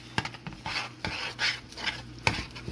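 A spoon stirs cheese into macaroni for a salmon and shrimp mac and cheese, giving a series of close, soft scraping and squelching strokes with light clinks against the pot.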